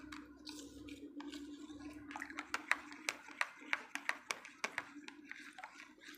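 Hand sanitizer gel mixture is stirred in a container, giving soft squishy strokes that turn into a run of sharp regular taps against the side, faint and close over a low steady background hum.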